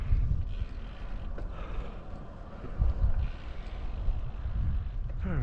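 Wind buffeting a microphone outdoors on quiet residential side streets in Morris, Illinois, a steady low rumble with gusty swells throughout and no talking.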